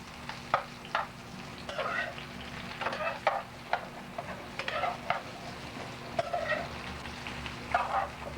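Eggplant sizzles in a hot pan with butter and oil, a steady low fry broken by repeated stirring scrapes and bursts of crackle, close and alone.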